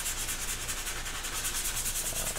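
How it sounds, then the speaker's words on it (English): Sandpaper of 180 grit rubbed by hand over a CNC-cut wooden Christmas ornament, a steady close scratchy back-and-forth rasp continuing without pause and with no talk. "And here I'm just sanding it down with some 180 grit"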